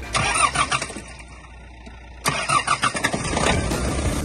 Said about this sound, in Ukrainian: Ну, давай будемо запалювати.